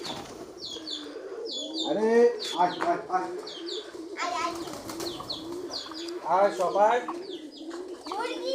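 Pigeons cooing at a village house while leftover rice is scattered for them: several rounds of throaty coos and chirps close by, with a brief wing flutter, while a person calls to the birds over them.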